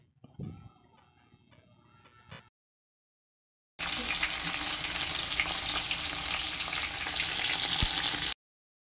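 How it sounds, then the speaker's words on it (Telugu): Chicken biryani ingredients with mint frying in a pan, a dense, loud sizzle that starts suddenly after a brief quieter stretch of faint clatter and silence, then holds steady up close. "ఇవి వేసుకున్న అన్నిటినీ బాగా వేయించుకోవాలి"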